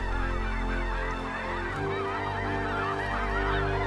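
A flock of geese honks loudly and continuously, many overlapping calls close by, with no voices.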